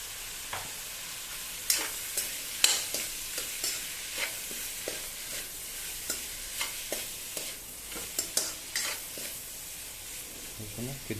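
Fish curry ingredients with salt fry in a pan under a steady soft sizzle, punctuated by repeated sharp spatula scrapes and taps at an irregular rhythm.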